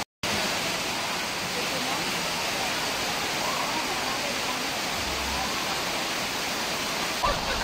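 Tinago Falls waterfall in Iligan City roars as a steady, dense broadband rush, close and loud, continuous throughout with no break except a brief silent instant at the start.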